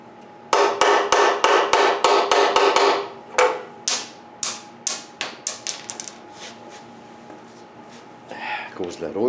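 A rusted bolt on a 2012 Nissan Versa is worked off with a 10 mm socket: loud, close bursts of rapid rattling impacts, first in a dense run, then in shorter spaced-out bursts with pauses between.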